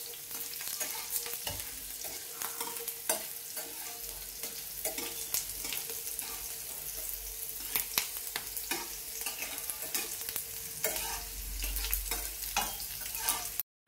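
Garlic frying in a pan with steady sizzling and repeated scraping stir strokes of a spoon against the pan, close and continuous with no talk.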